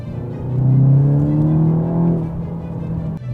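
A Volkswagen Golf GTI MK8 engine revs up loudly and steadily, pitch climbing as it accelerates, then easing off near the end; close and alone.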